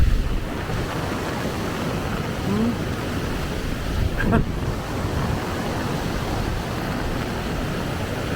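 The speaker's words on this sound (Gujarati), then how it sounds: "પવન એટલો જોરદાર આવ્યો" Heavy rain and strong gusting wind outdoors in the UK, a steady loud roar of broadband noise with water pouring nearby, continuous throughout with slight swells and no talking.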